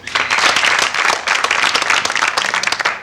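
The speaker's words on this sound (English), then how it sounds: "Clap if you will." Studio audience at a televised comedy show bursting into sustained applause, a dense, loud wash of many hands clapping at once that holds steady for the whole stretch, with no voice over it.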